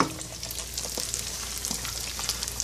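Garlic, dry coriander, salt and cumin hit hot fat as they go into an Egyptian colocasia stew, giving a steady close-up sizzle with crackling spatter throughout, no voices.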